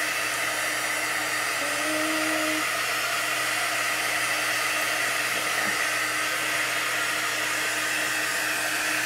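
A heat tool runs steadily for about nine seconds, heat-setting chalk ink onto a fabric banner, giving a constant close airy whir with a faint brief tonal whine midway and no talking.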